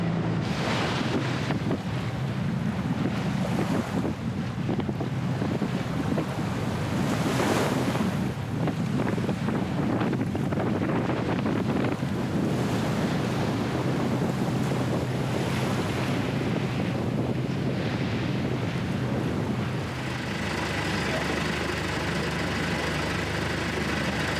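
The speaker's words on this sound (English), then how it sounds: "The seas are just too choppy here to deal with it." Choppy sea waves slosh and surge around a sailboat under sail while strong wind buffets the microphone, forming a dense, loud, continuous roar with rising gusts and splashes throughout.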